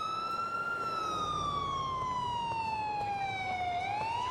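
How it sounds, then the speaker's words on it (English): A police car siren from Grand Theft Auto 4 wails in a loud, steady sweeping tone that slowly drops in pitch and then turns upward again, heard alone over faint traffic rumble. "You hear the siren? That's them."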